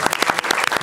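A short burst of close, loud applause during a studio talk show, dense overlapping claps filling the moment.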